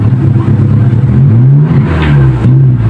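Close, loud engine of a Kia Pride EFI idling and revving unevenly, with a rough, stumbling drone that rises and dips as the misfiring engine struggles to hold revs, no voices.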